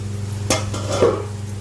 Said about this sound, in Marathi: आपण झाकण काढत आहोत.